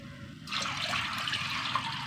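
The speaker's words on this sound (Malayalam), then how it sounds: "വെള്ളം ഒഴിച്ച് അടുപ്പിക്കുക" Water gushes suddenly after a quiet moment and keeps pouring steadily into a cooking pot of washed toor dal, close by and fairly loud, with no voices.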